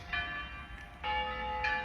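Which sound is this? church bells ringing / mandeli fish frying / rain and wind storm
church bells ringing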